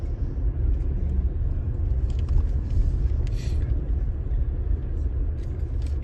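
Engine rumble and low road-vehicle drone while boarding a river ferry raft with vehicles in Romania, a steady, loud low hum throughout with faint higher clatter and no clear talk.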